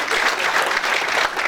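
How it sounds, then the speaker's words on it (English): A seminar audience at the MF.Club Health & Wealth event applauds Liberty X star Michelle Heaton, with dense, even clapping filling the whole moment and no voices over it. "Michelle Heaton's here. Let's give a big round of applause."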